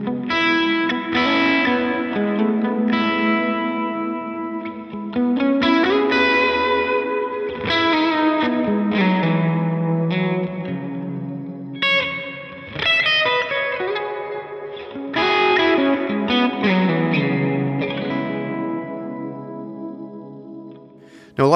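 An instrument, likely an electric guitar, plays chords and melodic phrases through a heavy reverb with a 4-second decay and no pre-delay, the notes washing together into a dense, sustained tail, loud and continuous with no talk.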